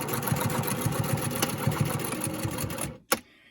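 A sewing machine stitches back and forth across fabric for a homemade face mask, whirring in a quick, steady rhythm of needle strokes up close, then stopping with a sharp click followed by quiet.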